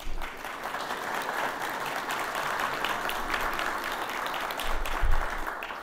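Steady applause from a conference audience for a committee standing on stage, a dense, even wash of many hands clapping for several seconds with a slight swell near the end.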